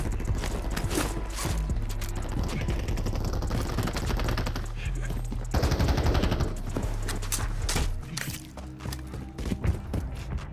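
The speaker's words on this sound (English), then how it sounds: "Who's shooting me right now?" Dense, rapid gunfire rattles through a Warzone match in long automatic bursts mixed with heavier single shots, loud and nearly continuous, with layered game effects underneath.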